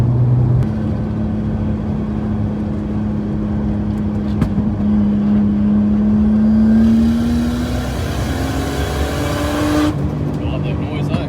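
Nissan Skyline R32 street car engine revving up in a steady rising pitch from inside the cabin, loud and continuous, with people talking over it.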